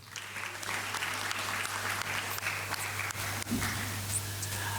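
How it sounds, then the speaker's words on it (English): Audience applause at a projects launch event in a hall, a full, sustained round of clapping with a steady low electrical hum underneath. "Let's give them a round of applause."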